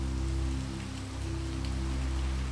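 Soft, steady rain patters on a surface at a low level, under a constant low hum, with no voices.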